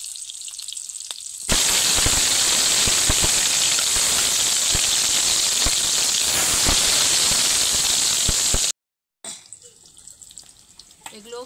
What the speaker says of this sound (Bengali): যে কয়েকটা বাকি রয়েছে সেগুলো একই রকমভাবে ভেজে নেব।